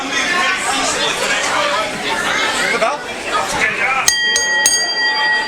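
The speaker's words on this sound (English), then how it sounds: "Bell sounds and we're underway." A wrestling match bell rings several sharp times near the end, cutting through loud crowd chatter and commentary at a pro wrestling show.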